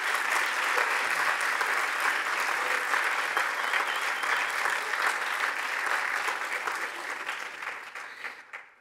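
A large audience at a Hoover Institution event applauds the Argentine economy minister with dense, steady clapping that fills the whole stretch before thinning out near the end.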